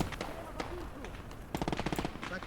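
A StuG assault gun and rapid small-arms fire crackle in a wartime video game battle, with a quick burst of sharp repeated shots late in the clip and a voice speaking beneath.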